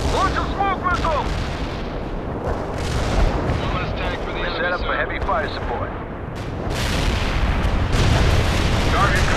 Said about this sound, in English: Heavy artillery, receive coordinates. Fire!